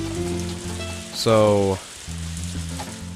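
Steady soft rain patters through the Harvest Moon: A Wonderful Life farm scene beneath gentle tonal game music, with someone briefly speaking partway through.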